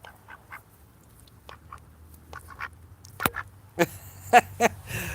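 A pet duck quacks close by, a few quiet scattered quacks at first, then a louder cluster of sharp quacks near the end, in an otherwise quiet setting.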